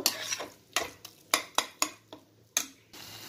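A spoon stirs long bean curry with garam masala in a pan, making a series of sharp scraping clacks about every half second over a faint low sizzle, close and alone.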